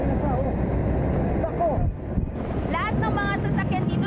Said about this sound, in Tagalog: Halos sakyan niya ako ng hangin dahil sa lakas nito.